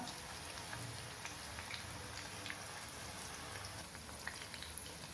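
Chicken 65 bubbles in hot oil over a medium flame, a soft, steady crackle and fizz throughout, faint and without voices.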